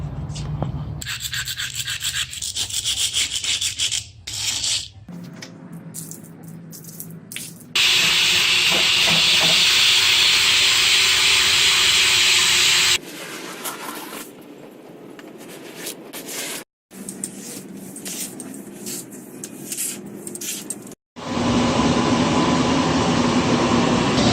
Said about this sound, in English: we're going to use our 17-inch rock sheen buffer